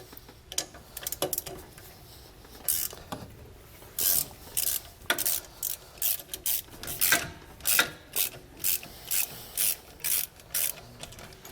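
A ratchet backs nuts off a trailer disc brake assembly on a 2020 Jayco Pinnacle, with rapid pawl clicking that settles into a regular run of short bursts, close and fairly clear.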